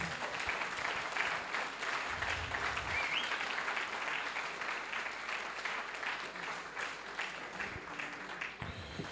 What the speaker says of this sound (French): Je pense qu'on peut encore t'applaudir pour cette intervention.